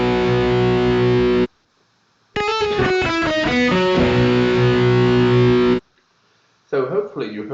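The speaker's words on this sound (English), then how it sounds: "We'll play first a simple guitar riff, and then the same thing, but with doubling the sound using a short echo." A distorted electric guitar riff played dry, then repeated doubled with a short echo delay that thickens it, two sustained bursts separated by silence, ending in a brief choppy phrase.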